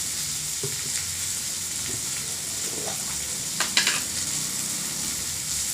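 Garlic paste sizzles and fries steadily in hot oil in a pan, a continuous close crackle with a few louder spits and stirring clinks partway through.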